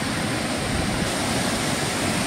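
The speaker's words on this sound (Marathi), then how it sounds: "या झाडीत तुम्हाला हे कोसळणारं पाणी दिसतंय." Savatkada waterfall at Rajapur, screened by dense bushes: a steady, loud, broadband roar of falling water, continuous and unbroken throughout.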